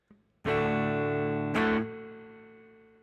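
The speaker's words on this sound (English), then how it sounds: "me put it down into spring reverb" An electric guitar played through a Mugig Reverburg pedal set to spring reverb rings out in two strummed chords, the second struck about a second after the first, then fades slowly in a long reverberant tail, close and alone.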